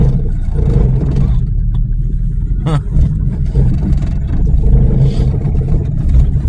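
Engine of a ZAZ Slavuta 1103 hatchback rumbles steadily while driving, a continuous loud low drone heard from inside the car, with no talking.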